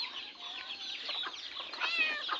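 Eleven young chicks peep and cluck steadily inside a bare-earth pen, a continuous overlapping chorus of high, close calls with no talking.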